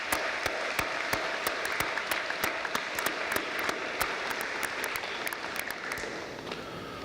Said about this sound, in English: would you please give your parents a round of applause?